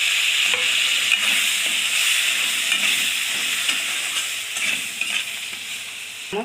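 Chopped tomatoes fry in hot oil with turmeric and spices for a masala baigan, giving a loud, steady hiss and sizzle throughout. Faint stirring clicks sound now and then, and no one speaks.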